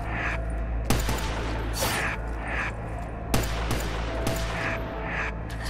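Gunshots in Black Ops 3 Zombies ring out as a few sharp, loud cracks spaced about two seconds apart, each with a short decay, over a steady low-pitched hum.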